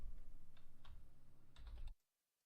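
A rapid run of keystrokes on a computer keyboard, close and steady, stopping abruptly into silence.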